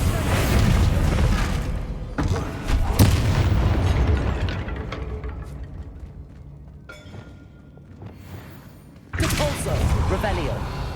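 In Hogwarts Legacy, Bombarda spell explosions go off as loud booming blasts, several in sequence with rumbling tails and a pause before a final burst, with talk underneath.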